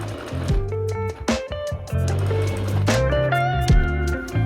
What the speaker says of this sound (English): When everything is ready, secure your button with a couple of zigzag stitch